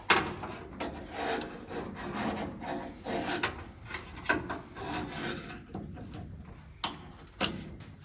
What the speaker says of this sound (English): there's a cotter pin right here that we need to pull out